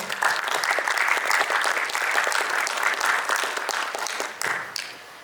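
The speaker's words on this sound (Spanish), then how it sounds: "Les pido un aplauso para ellos" A crowd at a film panel talk claps steadily for several seconds, dense and fairly loud, then the applause fades out near the end.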